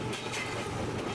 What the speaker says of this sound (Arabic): ندوز واحد شويه نشوفو توصل الترين